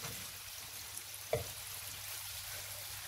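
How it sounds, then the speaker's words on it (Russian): Liver pieces fry in a pan with a steady, soft hissing sizzle throughout, broken once by a brief knock of a utensil against the pan, close and continuous with no voices. "Печень долго обжаривать не нужно."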